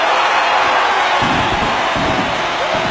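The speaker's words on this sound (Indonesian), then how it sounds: "Suara sorakan dan tepuk tangan meledak seketika, menggema sampai ke seluruh penjuru desa." A village crowd cheers and applauds at Naruto's coronation as Hokage: a dense, steady roar of many voices and hands that holds loud and unbroken throughout.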